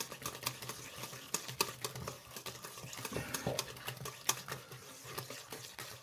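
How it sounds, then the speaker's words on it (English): Almonds being stirred by hand into an apricot tart filling in a bowl, a busy run of small scrapes, clicks and soft wet patters from the spoon, fairly quiet and close. "Some good old almonds in there. Give it a mix."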